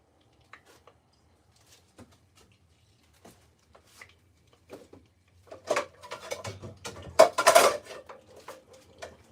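A metal pot clanks and rattles as it is handled and set up for cooking steak, with faint scattered taps at first building into louder, close clattering bursts of metal contact.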